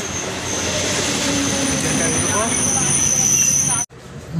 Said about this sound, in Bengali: ট্রেন চলেছে